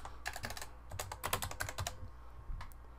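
Rapid typing on a computer keyboard, clusters of clicky keystrokes in bursts with short pauses, close and clear with no talking.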